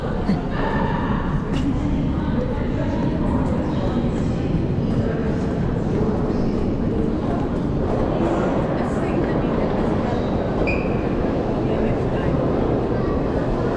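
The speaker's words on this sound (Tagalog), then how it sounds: "We're in Heathrow Terminal, train terminal." A train rumbles steadily through the underground station at Heathrow Terminal, a continuous low roar of wheels and carriages that fills the space. Voices talk over it now and then.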